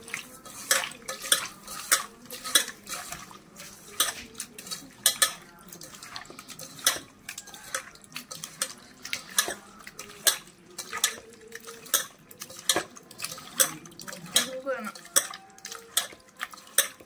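Raw prawns being rubbed with salt by hand while cleaning give repeated sharp clicks and scraping knocks against a bowl, an irregular rhythm throughout, with occasional talk in the background.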